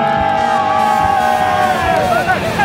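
A crowd of fans at a Winter Olympics 1000 m speed skating race in Sochi, Russia, cheer loudly and continuously for Dutch skater Michel Mulder, with shouting voices mixed into the roar.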